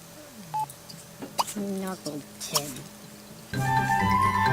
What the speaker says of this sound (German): Oh, ganz wichtig, Telefon.